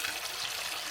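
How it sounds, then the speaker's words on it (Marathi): Spring water seeping from a rocky hillside plateau runs down by gravity in a steady, close, hissing trickle that continues without pause. "इथून पाणी येतो खाली ग्रॅव्हिटीने."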